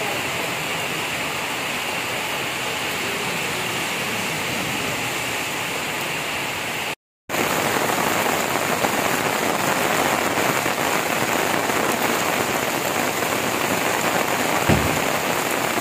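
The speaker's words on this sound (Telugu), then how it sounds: "నగరంలో కురిసిన భారీ వర్షానికి రోడ్లన్నీ జలమయమయ్యాయి" Heavy city rain pours down as a dense, steady hiss. It breaks off for a split second midway, then resumes at the same strength.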